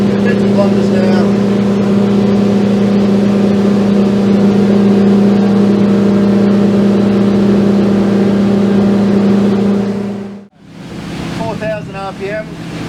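Yamaha or Mercury outboard engine pushing a Seaking Hunter 720 boat at cruising speed, a loud steady drone with a strong low hum throughout, dipping briefly near the end before resuming with wind and water noise.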